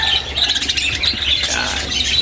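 Pet parakeets, a mix of rainbow, PCB and normal birds, squawk and chirp in a new DIY flight cage, a steady dense chatter of close calls running unbroken throughout.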